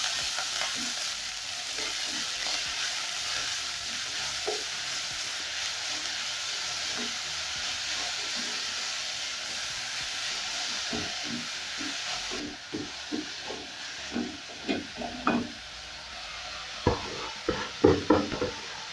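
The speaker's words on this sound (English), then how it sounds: "I'm going to go in with my greens. I'm going to add half the amount, and then I stir it." Kale greens (sukuma wiki) fry with onions in a pan, giving a steady hiss and sizzle; in the second half, louder irregular clattering strokes of stirring break through the frying.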